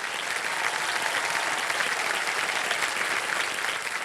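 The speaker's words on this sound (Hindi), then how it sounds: "तालियां बज जाए।" Studio audience applause on a television quiz show, a dense, even clatter of many hands clapping steadily throughout, fairly distant and moderate in level, with no voices standing out.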